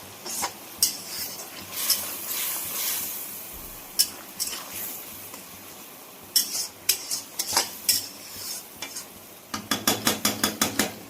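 Masala being stir-fried in a pan with a splash of water, a soft sizzle beneath repeated sharp metallic scrapes and taps of a spoon against the pan, ending in a quick run of rhythmic knocks.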